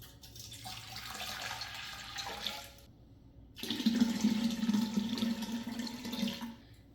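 Water pours steadily into a container while brewing kombucha, a continuous splashing stream with a brief pause partway before resuming louder and fuller, close by with no talk.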